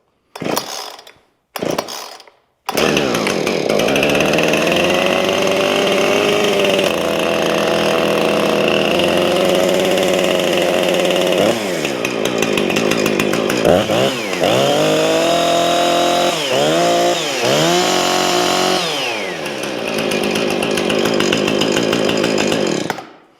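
A cold Husqvarna 460 Rancher chainsaw starts after a few short starter-cord pulls, then settles into a loud, steady running drone close by, with the engine revving up and dropping back several times before returning to a high idle.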